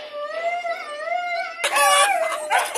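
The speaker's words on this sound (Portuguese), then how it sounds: "os cachorros ficam tudo latindo" Several dogs on a farm with a rooster howl and bark close by in long, wavering cries, then break into a louder, overlapping burst of yelps and barks.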